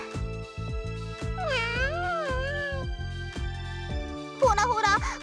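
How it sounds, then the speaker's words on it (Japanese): A lonely cat in a PS2 video game gives two drawn-out, wavering meows, the second higher and shakier, over steady plucked background music. "猫の寂しそうな鳴き声って。"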